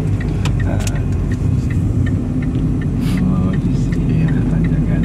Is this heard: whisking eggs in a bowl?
no